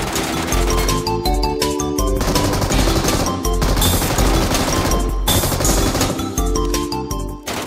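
Rapid automatic gunfire trades back and forth in the shooter game PUBG Metro Royale, loud, dense bursts separated by brief pauses, close and sustained across the whole stretch.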